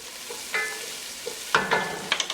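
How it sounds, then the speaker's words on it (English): A lamb stew gets stirred in a pot over low heat, the spoon scraping and sloshing through sizzling ingredients in a few distinct bursts over a soft, steady frying hiss, close and without talk. "Give that a quick little stir to move that around a bit."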